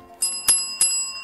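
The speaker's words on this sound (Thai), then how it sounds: "กระดิ่งใช้ได้นะครับทดสอบระบบแล้ว" A school bell rings as a system test, giving three sharp metallic strikes spaced about a third of a second apart, each leaving a bright ringing tone that hangs between hits.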